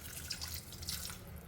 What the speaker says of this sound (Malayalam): സ്വല്പം കൂടി വെള്ളം ഒഴിക്കാം